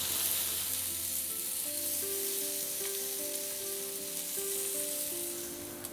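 Paneer tikka sizzles steadily in a hot pan, a close, even hiss of frying with a faint tonal hum running beneath it and no talking.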